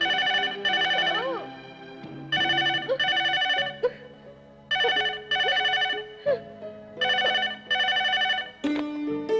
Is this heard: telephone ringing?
yes